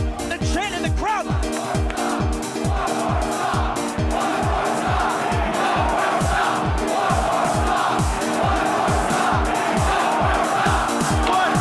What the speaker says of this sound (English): The chant in the crowd.